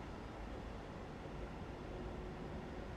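Steady, continuous rumble of a train running at speed on a fast main line, a loud even roar with no breaks or talk throughout.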